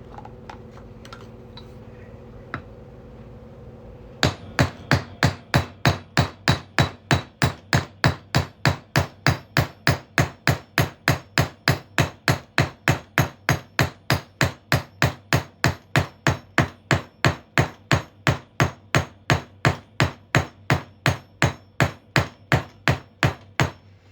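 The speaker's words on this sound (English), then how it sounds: "this is a pretty thick coin, so it's going to take quite a bit of hammering" After a quiet start, loud, sharp metallic hammer blows on a thick copper coin ring out in a steady, rapid rhythm, dozens of strikes in a row.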